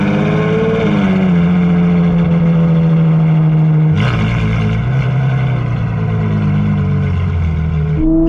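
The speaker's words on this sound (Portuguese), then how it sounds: "Olha o barulho desse carro. Nem 4 mil giros. F12 TDF" A Ferrari F12 TDF V12 engine revs hard, a loud, close mechanical roar that holds a steady pitch, drops sharply and kicks back up around the midpoint, then rises again near the end.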